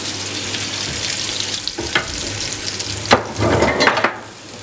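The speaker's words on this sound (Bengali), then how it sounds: "এখন তেলটা একটু কমিয়ে গরম তেলে" Onion frying in hot oil for foli fish kofta, giving a steady close sizzle with a few stirring clacks and a louder crackling surge near the end.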